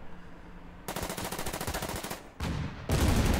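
Bursts of machine-gun fire from a Panzer III attack in the WW2 strategy game Order of Battle, a rapid rattling volley that cuts off, then louder, denser gunfire resumes close and loud.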